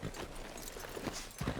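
Horse hooves clip-clop steadily at a walking pace in the Red Dead Redemption 2 video game, a rhythmic series of hoof beats on a town street over a broad ambient background.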